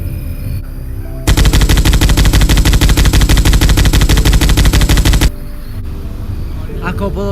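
Machine gun firing a long sustained burst of rapid loud shots in a dark street fight, preceded and followed by quieter background noise.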